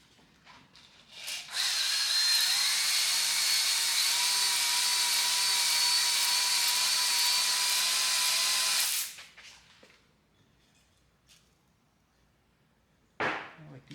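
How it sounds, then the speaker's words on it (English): A drill-driven ball hone whirs inside a worn cylinder block bore, cross-hatching the walls in a steady run of about seven seconds, then spins down, followed by quiet and a short knock. "it's a ball hone. It's not made to really take any material off."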